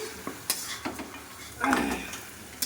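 A spoon stirs mutton curry in a pan, making soft scrapes and clinks against the metal over a faint sizzle, short and close, with no voices.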